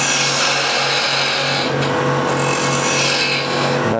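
A skew chisel cuts dovetailed tenons on wood spinning on a lathe, giving a loud, steady, rasping scrape with a constant motor hum underneath and no talk.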